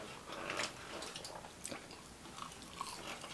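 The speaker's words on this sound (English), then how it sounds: "You can tell because I'm chewing and trying to bite it already." Crunchy cheese fries being bitten and chewed close up, a few quiet crisp crunches scattered through a short stretch with no talking.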